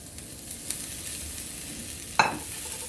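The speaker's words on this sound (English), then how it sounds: "And now I'm going to add my carrots" Carrots sautéing in a pan for vegan pad thai, a steady sizzle with a sharp scrape or clatter of utensil near the end, no talking.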